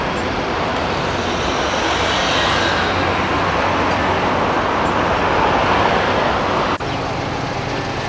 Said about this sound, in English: So pretty busy traffic in Macau